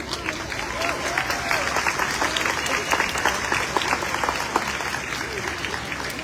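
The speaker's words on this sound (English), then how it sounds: "So please give a round of applause for Mahsa Alizada." Sustained applause from a crowd at an outdoor protest rally in Sydney against the Hazara genocide, a dense steady patter of many hands with some voices mixed in, continuing at even loudness throughout.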